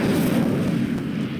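Incendio fire spell cast in Hogwarts Legacy, a loud, dense roaring burst of flame that holds steady for about a second and a half, with no voices.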